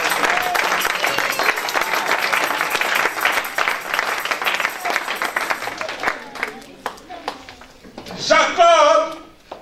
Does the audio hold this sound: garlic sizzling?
no